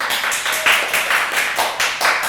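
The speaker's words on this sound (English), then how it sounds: "really cheer for who you want to win" An audience claps steadily and loudly at a live nerd-debate event, rhythmic hand claps filling the whole stretch with a dense crowd texture.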